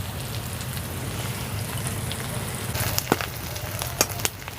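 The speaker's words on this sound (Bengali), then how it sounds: "পেঁয়াজ রসুন আর কাঁচা লঙ্কাটাকে একটু লালচে করে ভেজে নেব।" Onion, garlic and green chili frying until reddish, giving a dense crackling sizzle like light rain, close and steady, with a few sharp pops and taps toward the end.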